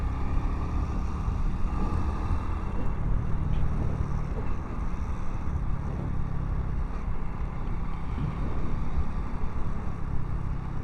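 Strong, steady wind buffets the lakeside at Silalahi on Lake Toba, a dense broadband roar that never lets up and rumbles loudly in the low end throughout.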